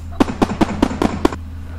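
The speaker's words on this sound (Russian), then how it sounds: "Давайте запустим наш традиционный салют." Six sharp firework bangs go off in a quick, evenly spaced run during a fireworks salute in the Roblox game Build a Boat, each a bright crack with a brief tail, over a low steady hum, then quiet.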